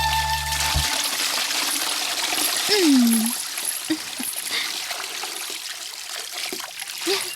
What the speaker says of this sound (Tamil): தண்ணி ஊத்தி முடிச்சிட்டியா?